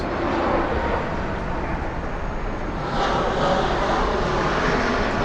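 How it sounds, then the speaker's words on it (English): A loud, steady roar of a low-flying airplane passing close overhead above Main Street and Roosevelt Avenue in Flushing, Queens, New York City, swelling slightly partway through, with no talking. "I hear another plane coming."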